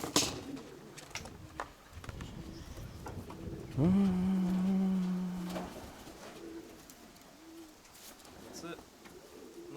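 A single drawn-out coo from a young pigeon rises mid-clip amid faint background rustle and soft, indistinct voices.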